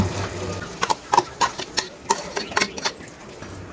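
Rohu fish roe stirred into cooked-down masala in a frying pan, quick scraping strokes of a spoon over a light sizzle, close up, with no talking.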